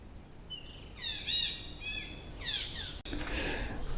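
Birds chirp and trill in quick bursts of high, bright notes, a few calls overlapping, fairly close with a soft background hiss, among the stone temples of Angkor in Siem Reap, Cambodia.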